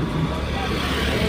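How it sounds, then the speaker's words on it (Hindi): A new SUV's engine and exhaust drone steadily at close range, a dense continuous roar that holds without pause. "देख रहे हो भाई साउंड गाड़ी का कितना खतरनाक है"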